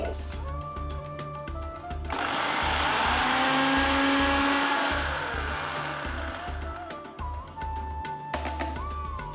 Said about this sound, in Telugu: మిక్సర్ జార్లో ఫస్ట్ మనం ధనియాలు ఎండుమిరపకాయలు జీలకర్ర ఇది వేసి రుబ్బుకోవాలి